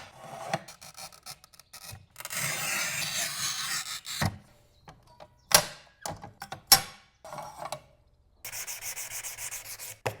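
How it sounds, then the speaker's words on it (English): A ceramic tile scored with a handheld tile scribe, giving dry scraping strokes in short bursts with pauses between them, plus a few sharp clicks and taps near the middle. "scribe back first and then scribe through the tile to get a clean break"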